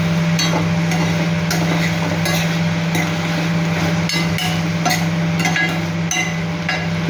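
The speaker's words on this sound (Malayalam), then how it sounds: "അപ്പോൾ ഒന്നുകൂടെ ഒന്ന് ഇളക്കി വെക്കുക." Fish curry with salt being stirred in a pan, a spoon scraping and clinking against the metal in a steady series of strokes over a constant background hum, close by with no talking.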